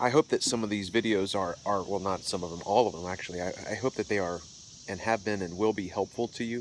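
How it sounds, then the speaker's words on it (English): A steady high-pitched drone of cicadas buzzing outdoors runs faintly beneath someone talking close up. "the cicadas are not too loud as of yet, but you can hear them in the background"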